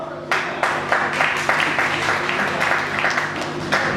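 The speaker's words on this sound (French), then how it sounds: "On peut l'applaudir." An audience at a retirees' collective New Year's greetings ceremony in Congo bursts into applause, a dense, steady clapping sustained for several seconds after a sharp onset, with faint voices mixed in.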